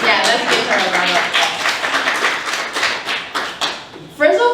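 A small Toastmasters meeting audience claps for the Toastmaster of the Evening, a close, lively round of hand clapping lasting about four seconds before a voice starts speaking.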